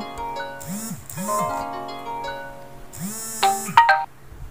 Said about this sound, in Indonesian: Sorry agak terganggu, ada telepon tadi ya.